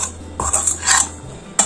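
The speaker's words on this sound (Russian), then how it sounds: "Теперь я перемешиваю изюм с мукой, ну, скажем так, обваливаю его в муке." Raisins tossed with leftover flour in a bowl for an Easter kulich dough, with a few light clinks and scrapes of a utensil against the bowl, close and sparse, without talk.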